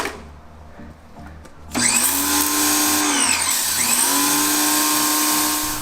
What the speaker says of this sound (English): the universal motor powered GPW2006